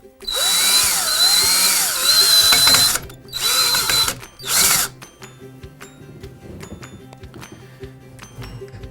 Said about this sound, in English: And tighten the screw.